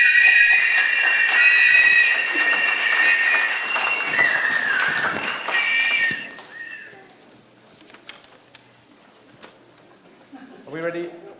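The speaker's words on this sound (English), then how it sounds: "a big whistle for our first speaker, Professor Michael Luck." A conference audience lets out a loud burst of whistles and applause for the first speaker at a debate, sustained for several seconds before fading into scattered claps and voices.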